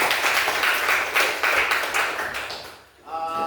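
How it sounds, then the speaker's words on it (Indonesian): A classroom of students claps for a presenting group during a teaching performance exam, a close, busy patter that swells and fades, then drops away as a voice starts speaking. "Beri tepuk tangan untuk kelompok 2"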